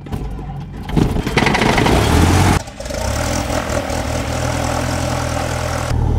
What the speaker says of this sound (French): On vient démarrer et en même temps, pendant qu'on démarre, en fait, on va venir ici tout doucement pousser cette manette